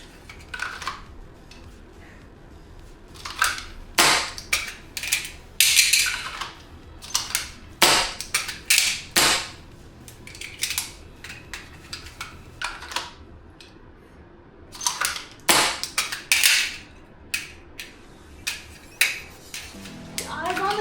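A Cool Fire dry fire trainer on a pistol makes sharp mechanical clicks and clacks in irregular bursts as the magazine release is pressed and the gun is reloaded, with soft handling noises in between.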